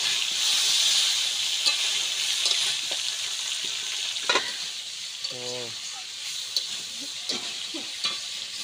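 Taro pieces sizzle in a pan as they are stirred, with a steady hiss, occasional scrapes, splashy watery bursts and one brief tonal squeak.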